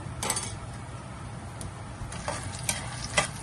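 Mustard seeds, peanuts and chana dal roast in a pan for poha, with a steady close sizzle and a few scattered light pops and scrapes of stirring, no voices.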